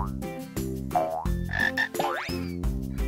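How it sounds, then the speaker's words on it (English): A frog croaks in a series of loud, close, tonal calls, several distinct bursts in quick irregular succession, alone with no talking. "Frog."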